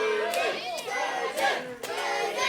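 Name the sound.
wrestling crowd cheering for Danny Duggan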